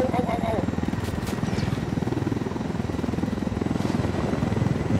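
A helicopter in Ghost Recon Wildlands flies with a loud, steady rotor thump and engine drone throughout, heard from close inside the aircraft.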